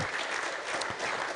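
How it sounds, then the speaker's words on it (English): A lecture audience gives a round of applause at a management lecture, a dense, even clatter of many hands that holds at a moderate, slightly distant level throughout. "please give them a round of applause"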